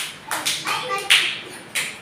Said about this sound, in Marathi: चला जोरात टाळ्या वाजवा